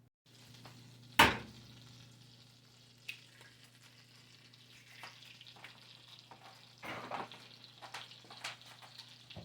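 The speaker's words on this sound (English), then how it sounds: "drop a little extra butter in here and go ahead on and do our egg" An egg frying in extra butter on a griddle after burgers, a steady soft sizzle with a sharp clank near the start and a few scrapes later.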